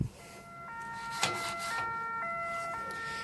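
A police or fire engine siren passes nearby, its stepped two-tone wail sounding faint and at a distance over steady background noise.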